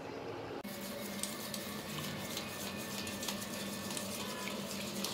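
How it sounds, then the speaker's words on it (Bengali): Pudding mixture pours into a bowl of caramel with a steady, soft liquid splash and gurgle, quiet and unbroken after a brief pause at the start. "এই মিশ্রণটা ক্যারামেলের এই বাটিতে দিয়ে দিচ্ছি সম্পূর্ণ"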